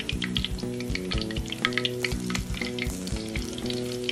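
Garlic sizzles in hot oil with a continuous, crackling fry, punctuated by rhythmic scraping strokes of stirring, close and moderately loud with no voices.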